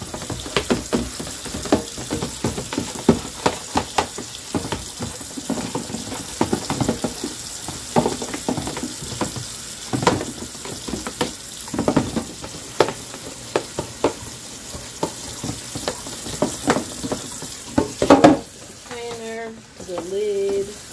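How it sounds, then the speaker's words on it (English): Container being scrubbed out at a sink under running water, with busy clattering, sloshing and scrubbing bursts throughout, ending in a few squeaky rubs. "you want to scrub out this container as well that your dirty stuff was in"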